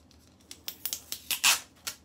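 A plastic seal being peeled off a gray Toppik Hair Builder container: a quick run of crisp crinkling and snipping bursts, close and fairly loud, ending in a longer rustle, with no talking.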